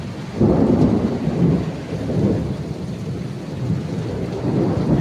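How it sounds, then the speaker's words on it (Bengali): Rolling thunder booms in surging waves over steady heavy rain during a Kalbaishakhi storm in the Sundarbans, loud and close, with no speech. "প্রচুর জোরে বিদ্যুৎ চমকাচ্ছে"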